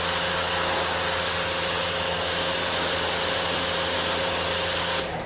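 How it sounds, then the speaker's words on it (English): A pressure washer sprays a car in a steady, loud, continuous broadband hiss with a constant motor hum beneath it, lasting throughout before cutting off abruptly at the end. "I'm gonna let that pressure washer do some of that work"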